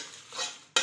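Bay leaves are dry-roasted in a pan and stirred, giving a soft, brief scraping and faint crackle. A sharper clatter of a utensil comes right at the end.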